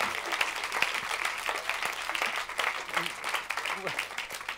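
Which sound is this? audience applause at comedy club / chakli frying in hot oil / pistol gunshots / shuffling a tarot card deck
audience applause at comedy club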